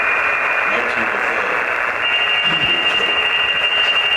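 Amateur radio stations come through a software-defined radio as a steady band of hiss and noisy signal, with faint voice-like fragments buried in the static, continuous and moderately loud throughout.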